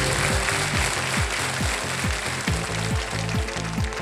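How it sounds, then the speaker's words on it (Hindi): Studio audience applause on the Hindi TV quiz show Kaun Banega Crorepati, season 16, a dense, loud wash of clapping that fills the whole moment with a steady pulsing beat driven by rhythmic low thumps, no voices over it. "ताली बज गई है"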